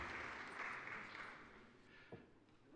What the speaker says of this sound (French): Je vous propose d'applaudir le Président.